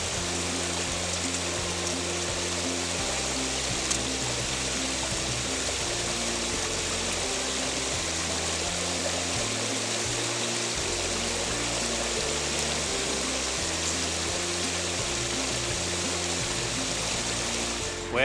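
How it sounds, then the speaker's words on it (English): A shallow creek flows steadily through winter woods while someone wades across it. The water makes a continuous rushing, gurgling sound at moderate distance, with no talking. "creek has got to be crossed because I've got to go to the other side"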